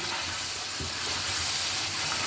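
Chicken frying in a pan with onion, garlic and ginger paste for a white korma, a steady sizzle with a soft stir-like thump, continuous and close.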